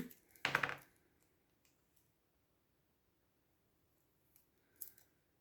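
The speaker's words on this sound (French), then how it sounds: "Je vais couper, et je vais couper vraiment très fin." Scissors cutting cardboard very finely for a candle box, one sharp close snip at the start and a fainter snip near the end in quiet surroundings.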